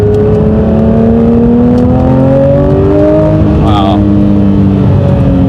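A Porsche 911 engine accelerates hard and revs toward 8,000 rpm, its loud rising howl climbing steadily through the gears with a brief lift near the end, while a voice briefly exclaims over it.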